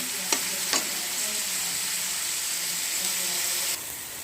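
Onions fry in oil in a karahi until lightly browned, a steady hissing sizzle close by with two brief metallic taps early on, the sizzle dropping slightly near the end, with no talk.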